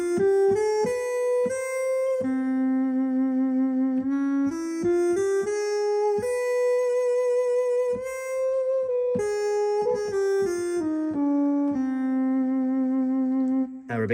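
A Yamaha Genos 2 keyboard plays a continuous melodic line set to an Arabic scale tuning, with bright sustained tones stepping up and down over repeated lower notes and no talking.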